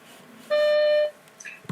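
A voicemail system sounds a single clear electronic beep lasting about half a second, alone in a quiet line, with a faint hint of a voice starting just after.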